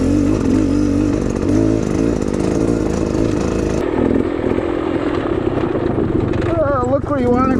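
Beta dirt bike engine lugging along at low revs on a trail, a steady loud throb running the whole time with a voice talking over it.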